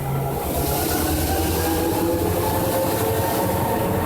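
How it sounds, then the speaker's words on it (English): A train on the WW Railroad's C&M Line rumbles loudly and continuously as it throttles up and departs, a heavy, steady mechanical roar with faint metallic tones, building slightly as it gets under way. "Now the engineer throttles up the train slowly because the train is departing."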